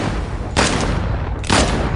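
Gunfire in a dubbed action film: two sharp bursts about a second apart, each standing out loudly over a dense, steady background roar.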